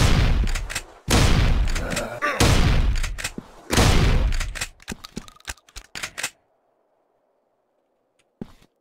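Shotgun fire in the Zombieland Fukuoka video game: several heavy booming blasts, followed by a rapid clatter of shorter bursts, then silence and one last faint hit near the end.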